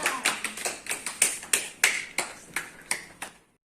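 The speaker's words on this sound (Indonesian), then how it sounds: "tepuk tangan buat teman-teman semua" A dozen or so distinct claps from a small group of classmates in a classroom, sparse and uneven, each a sharp burst with a short decay, stopping abruptly with silence after.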